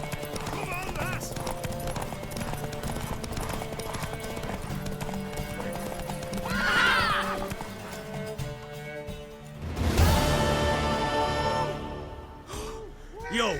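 Galloping horse in The Witcher 3, with rapid hoofbeats running steadily under game music and ambience. A whinny rises partway through, and a louder burst of neighing and snorting comes near the end.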